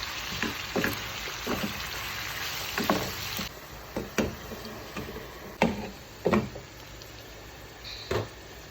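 Chicken gizzards sizzle steadily in hot oil in a pan, a constant crackling hiss broken by sharp clicks and knocks as the pan and utensils shift.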